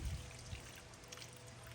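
Plain water poured into a plant pot holding up-potted pepper seedlings, a soft close trickle and dribble running steadily through the soil for under two seconds.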